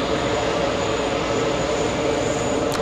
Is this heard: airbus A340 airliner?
yes